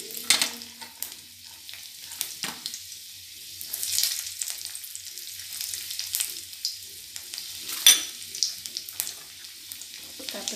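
Ginger and garlic hit hot oil in a home kitchen, with a soft sizzle and bursts of stirring and scraping, close by and moderately loud, with a few faint clinks between.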